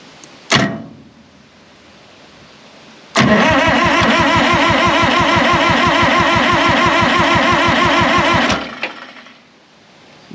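A stuck supercharged two-stroke Detroit Diesel in a long-idle John Deere 440 cranks over on the starter in one loud, sustained burst of rapid rhythmic chugging lasting about five seconds, with brief clunks before and after.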